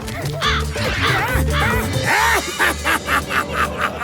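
A cartoon white crow caws repeatedly in short, loud, harsh bursts, alongside other cartoonish sounds and effects.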